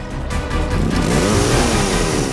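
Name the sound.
motorcycle engine revving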